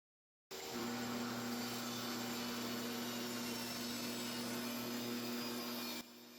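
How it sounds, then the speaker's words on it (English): A power drill whines steadily as it bores into forge-softened steel, a constant grinding hum that starts abruptly and runs unbroken for several seconds. "Now drilling it, you can see there's already pieces coming off"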